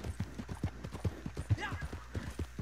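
Horse hooves clip-clop steadily in Red Dead Online, a quick even rhythm of close, distinct footfalls with faint background game sounds and a bit of voice.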